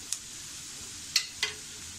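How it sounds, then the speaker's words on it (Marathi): Dried coconut roasting in a pan after onions: a faint, steady low sizzle with a few soft scraping stir clicks from a utensil. "हे सुद्धा व्यवस्थित असं छान खरपूस असं भाजून घ्यायचं आपल्याला."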